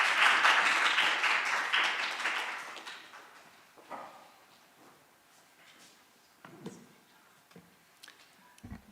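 Applause from an academic panel audience fills the first few seconds, loud and dense, then fades out, leaving scattered faint taps and room noise.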